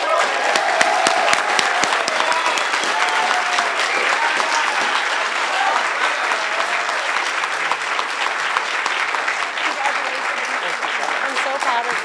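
An award ceremony audience applauding a school ambassador, dense sustained clapping from a full crowd for about twelve seconds, loud and even, with a few voices mixed in.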